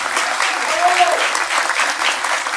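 Sustained applause from an audience at a civil merit decoration ceremony, a dense, steady wash of many hands clapping at once, fairly loud and even throughout.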